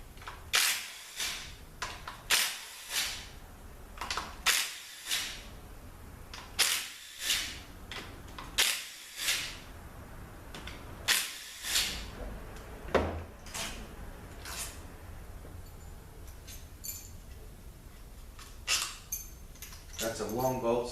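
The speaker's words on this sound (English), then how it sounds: "now I'm going to take the bolts out and remove the solenoid body" Bolts being removed from the solenoid body of a 6F50N automatic transmission during teardown: repeated metallic ratcheting and clinking bursts at a steady rhythm, close up, with a short metallic rattle near the end.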